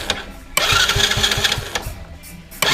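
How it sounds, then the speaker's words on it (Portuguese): A motorcycle engine, its starter just repaired, cranks and catches at close range, settling into a steady idle with low rhythmic thumps and a brief surge near the end, with no speech over it. "Vou estar ligando a moto aqui"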